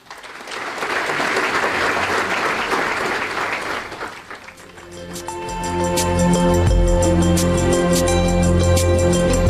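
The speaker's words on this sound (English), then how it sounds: "A massive round of applause from the Jalota Foundation tonight" Audience applauding at a 40th birthday felicitation, a dense, loud roll of clapping that dips briefly midway, then continues under music that swells in.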